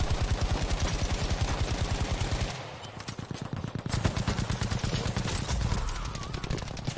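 Rapid bursts of automatic gunfire in Battlefield V clatter continuously, with a brief lull before the rattling volleys resume, loud and close with a synthetic, game-like sharpness.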